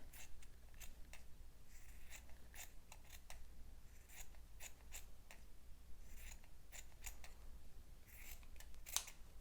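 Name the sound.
cutting small strips for a pizza sculpture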